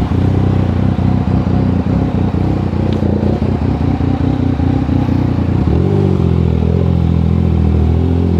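A Yamaha Niken 900 three-wheeled motorcycle being ridden, its engine droning steadily and loudly close up with some clattering and a slight shift in tone near the end.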